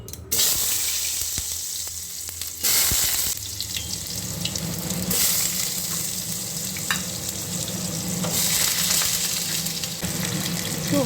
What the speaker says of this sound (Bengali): কড়াটা গরম হয়ে গেছে, আলুটা দিয়ে দিচ্ছি।